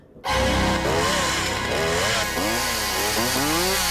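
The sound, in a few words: chainsaw in a horror film scene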